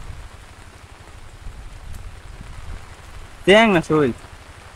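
Rain patters steadily and softly on a rural fishing spot during shrimp catching with bamboo traps. Two short spoken phrases cut in near the end.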